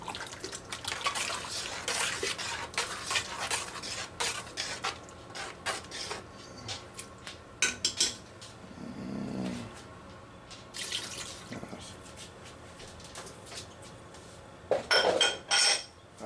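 Potato starch slurry poured into a pot of beef stew and stirred in, with liquid pouring, spoon scrapes and clinks against the pot close up and no talking.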